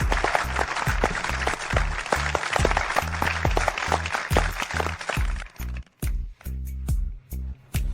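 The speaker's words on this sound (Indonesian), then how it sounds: "Mari kita beri tepuk tangan meriah untuk pemenang medali emas tahun ini, Liam Smith." Applause breaks out for a gold medal winner at an awards ceremony, loud dense clapping over droning music, thinning into a few scattered claps as the music cuts out.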